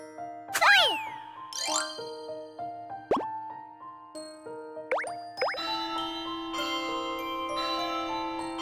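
Bells of Joy patch in Kirby's Epic Yarn sets off a run of bright, tinkling chimes and bouncy pitch-sliding dings that rise and fall over a soft melodic game backdrop.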